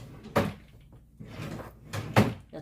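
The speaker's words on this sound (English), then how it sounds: "That's the foil drawer." A foil drawer in a nail-polish storage unit slides and bumps open in two soft thuds, close by and moderately loud, with no talk.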